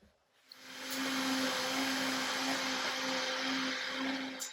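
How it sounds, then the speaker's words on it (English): A Vitamix blender whirs steadily while blending cashew mayonnaise, starting up after a quiet moment into a loud, even motor drone with a constant hum that holds throughout. "Now I'm going to blend this until it's a cream."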